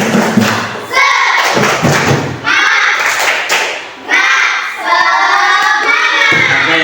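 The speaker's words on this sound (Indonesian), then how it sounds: "kalau nanti kita tepuk semangat dulu ya" A school class performs the tepuk semangat clapping routine, rhythmic group claps and thumps mixed with children chanting along in bursts, loud and close.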